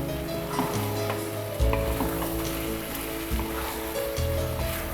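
Soaked rice stir-fried with chicken in a pan for Dhaka restaurant-style bhuna khichuri, a steady close sizzle broken by scraping stirs and occasional clatters, with no talk.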